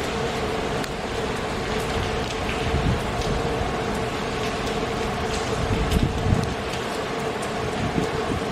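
Heavy rain during a thunderstorm with flooding in Mineola, NY: a dense, steady roar of downpour with scattered sharper splashes throughout, and no distinct thunderclap.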